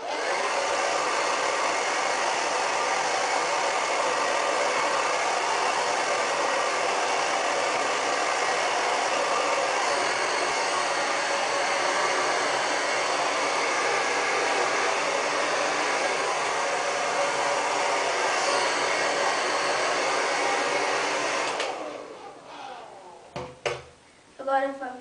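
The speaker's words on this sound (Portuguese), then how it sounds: "O meu secador é este. Oi. Da Babyliss. Eu meto no mais quente. No mais quente. E na potência máxima." A Babyliss hair dryer on its hottest setting at maximum power blows with a loud, steady whooshing roar for about twenty seconds, then cuts off, followed by a few faint clicks.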